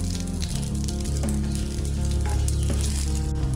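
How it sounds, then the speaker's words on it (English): Whole spices, red chili, bay leaf, cinnamon, cloves and cardamom, sizzle in hot oil in a kadai, a steady crackling hiss with faint utensil clinks, close up and without talk. "Once the oil is hot, then add red chili, bay leaf"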